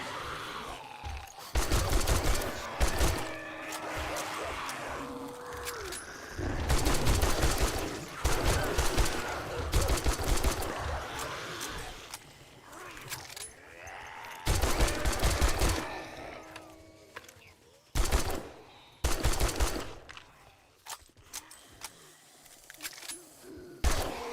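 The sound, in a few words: machine gun fire in the video game 7 Days To Die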